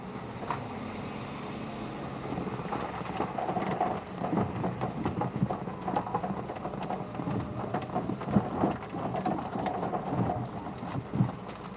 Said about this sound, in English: Raining cats and dogs out here.